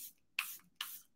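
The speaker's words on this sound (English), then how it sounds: "So, this is Airbrush Flawless Setting Spray, 16-hour wear." Charlotte Tilbury Airbrush Flawless setting spray with green tea and aloe, sprayed in three short, close hissing bursts at even intervals, with quiet pauses between them and no talking.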